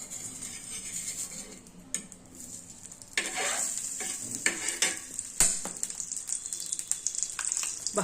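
A tomato sandwich fries in ghee on a pan. A soft crackle at first rises to a louder, continuous sizzle, broken by scraping and tapping from a spatula, close and with no voices.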